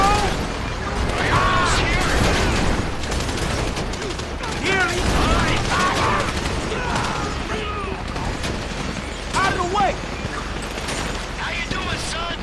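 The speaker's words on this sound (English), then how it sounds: "You hear that gunfire?" Gunfire during a bank heist shootout in the video game Grand Theft Auto V, with rapid bursts of automatic fire, clattering mechanisms and chaotic crashes throughout, and shouting voices mixed in.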